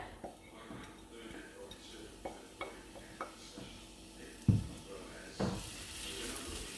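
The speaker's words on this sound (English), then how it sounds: "So pop the onion into the fry pan." Chopped onion goes into a hot frying pan and begins to sizzle softly while a utensil stirs, with faint clinks and scrapes against the pan and a couple of sharper knocks near the end, all fairly quiet and close.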